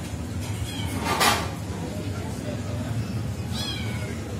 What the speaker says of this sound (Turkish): Birisi uzaktan miyavlıyor.